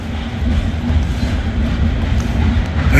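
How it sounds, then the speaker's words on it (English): A train passes close by outdoors with a steady, loud low rumble and rolling rail noise throughout, no talking. "Yes, that's a train, babe."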